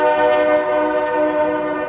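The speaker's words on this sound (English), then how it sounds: "Wow, that train is really loud." A train passes close by, its horn blaring loud and sustained with a rich, steady chord that fills the whole moment without pause.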